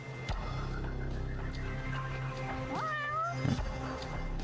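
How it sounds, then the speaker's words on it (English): Cat meowing inside the video game Judgment, a clear rising-and-falling meow with a couple of pitch swoops near the end, heard over steady game background ambience and music. "That's a cat."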